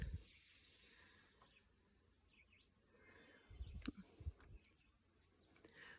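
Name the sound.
birds singing in a quiet garden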